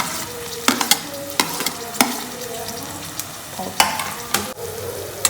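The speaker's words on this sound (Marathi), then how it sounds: "आता तेल तापलं आहे गाईज आपलं आपण कांदा टाकू आता कांदा लालसर फ्राय करायचा" Chopped onion frying in hot oil for pav bhaji gives a steady crackling sizzle throughout, broken by several sharp clacks of a spatula stirring against the pan.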